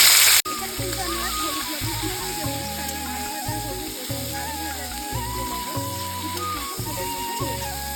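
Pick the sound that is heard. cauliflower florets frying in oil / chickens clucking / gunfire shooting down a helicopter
cauliflower florets frying in oil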